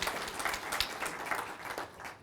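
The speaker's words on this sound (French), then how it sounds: "Je voudrais qu'on applaudisse" An audience at a European policy debate in Paris applauds in a hall, a brief, moderate patter of clapping heard throughout.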